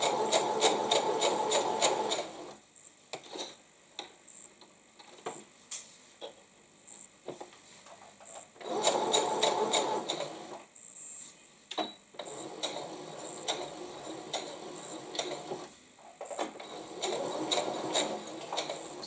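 A domestic sewing machine stitches a quilt inset seam in fast whirring bursts, pausing between runs with small clicks and handling noises of needle and fabric, close and fairly loud.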